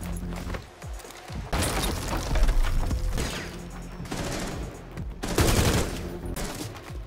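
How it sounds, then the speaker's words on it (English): Rapid bursts of gunfire tear through floors in Rainbow Six Siege, loud, close volleys with crashing debris, broken by short pauses before more shots. "Many floors can be partially broken and shot."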